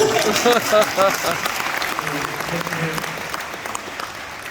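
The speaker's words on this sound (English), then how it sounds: "that deserves a round of applause" An audience at an eBay business event in Manchester breaks into applause, a dense burst of clapping with some voices, fading gradually over a few seconds.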